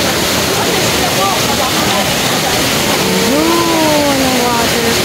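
A waterfall at a nature camp near Metro Manila roars as a loud, steady rush of falling water that fills the whole scene, with voices faintly audible beneath it.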